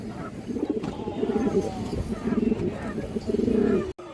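Kaldom pigeons, Indian high-flyer birds kept at a farm, coo repeatedly in low, throaty bursts, several rolling phrases close by with faint voices underneath.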